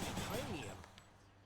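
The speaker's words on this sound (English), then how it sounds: "you can hold down the attack button to just fire off your shots" Automatic rail gun from Hades firing a quick burst of shots, loud at first and then tailing off, under a continuous game soundtrack.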